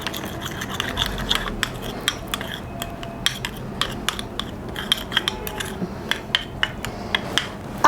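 A spoon stirs a homemade pear-pulp facial scrub in a bowl with a continuous gritty rubbing, dotted with small clinks against the bowl's side, close up and with no talking.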